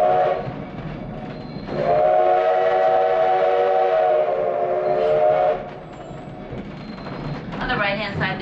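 An 1880s-style steam train ride at Hill City, South Dakota rolls along with a steady rumble and a long sustained whistle in the middle, while a narrator's voice talks over the rail noise.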